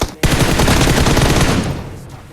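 Automatic gunfire in PUBG Mobile, a sudden sustained burst of rapid shots, loud and near, fading slightly at the end.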